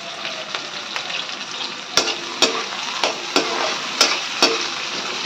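Green chillies go into a pan of Manchow soup base with ginger. The oil sizzles steadily while a spatula stirs and scrapes, giving sharp clacks roughly every half second over the constant frying hiss. No voice is heard.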